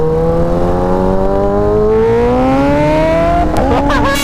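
A Kawasaki Ninja ZX-6R engine revs loud and close in a steady, rising whine, the pitch climbing gradually before a brief burst of sharp crackles and a drop near the end.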